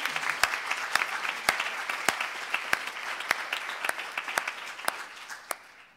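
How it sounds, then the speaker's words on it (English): Thin audience applause for panelists at an international conference on refugee integration, steady patter with a few sharp, distinct claps standing out, moderately faint and gradually tapering off. "And a big applause for the panelists."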